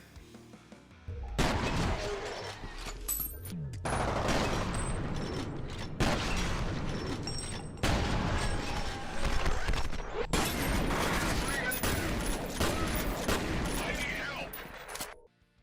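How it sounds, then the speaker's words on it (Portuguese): Rapid bursts of automatic fire from the VK-12 Combat Shotgun in the first-person shooter F.E.A.R., loud blasts layered with mechanical clanks and impacts, in several dense volleys separated by brief gaps. "VK-12 Combat Shotgun, pulverizando em slow motion"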